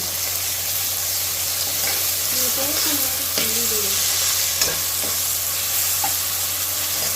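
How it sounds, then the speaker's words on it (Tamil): Onion with ginger garlic paste and tomato sautés for chicken biryani in a continuous loud sizzle, with a spoon stirring and scraping the pan now and then. "நல்லா பச்சை வாசனை போகிற வரைக்கும் வதக்கணுங்க"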